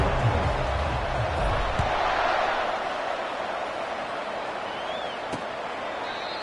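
A dense, continuous roar from a football video game crowd fills Arizona Stadium, loud and steady throughout, with a few faint thumps and a commentator's voice near the start.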